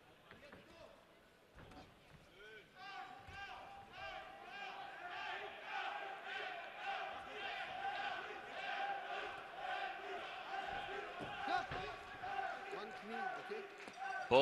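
A boxing crowd cheering and chanting in rhythmic waves throughout a fight between Erdi Sur and Edgar Manz, somewhat distant, under a commentator's steady talk.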